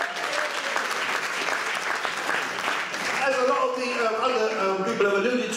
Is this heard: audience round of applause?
yes